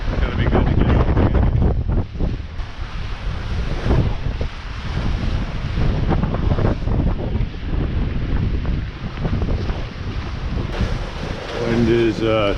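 Wind and rushing ocean waves aboard a sailboat running downwind in about 20 knots through rough seas and big swells, a loud continuous roar of gusts and water with no pauses across the whole stretch.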